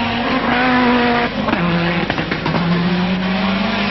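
Rally prototype car with a Citroën engine at the 1997 Oviedo rally, its engine note loud and close, pitch shifting through gear changes with a brief tyre squeal.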